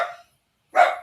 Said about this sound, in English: Oh, my dog is angry.